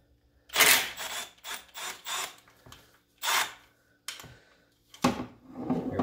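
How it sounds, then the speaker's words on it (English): A 10 mm ratchet backs out the recoil bolts on an Arctic Cat ZR 800 snowmobile: close, irregular bursts of sharp metallic clicking separated by short pauses. "I'm gonna use my ratchet here, and you just gotta find where they're at and work your way around"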